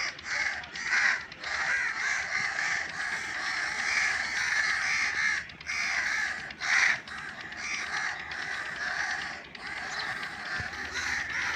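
Several crows caw loudly and repeatedly nearby, their harsh calls overlapping in a steady, busy chorus with only brief pauses, no talking.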